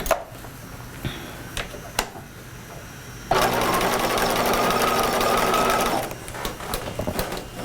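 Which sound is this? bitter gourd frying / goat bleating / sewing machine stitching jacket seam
sewing machine stitching jacket seam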